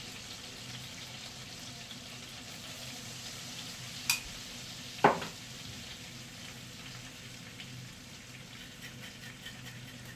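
Fat melting in a pan for dried pepper kavurma gives a steady, soft sizzle throughout, broken by two brief sharp clinks near the middle, with no talking.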